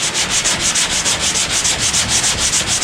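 Hand sanding of body filler on car bodywork, done with a sanding block in a steady back-and-forth rhythm of close, loud abrasive scrapes and no talking.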